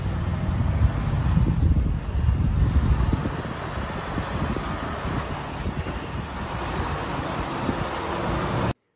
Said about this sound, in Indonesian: Wow, lihat ada truk kontainer kembali.